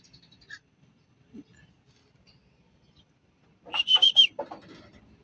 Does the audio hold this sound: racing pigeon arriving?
yes